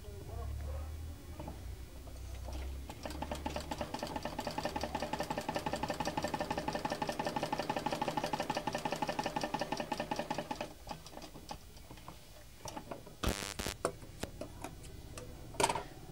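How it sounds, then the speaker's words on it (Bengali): Tailor's sewing machine stitching a hem seam, a steady rapid mechanical ticking run for about nine seconds, stopping and restarting briefly, with someone talking before and after. "আমি 4 নম্বর সেলাইটা দিলাম"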